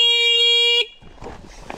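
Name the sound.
electric motorbike horn honking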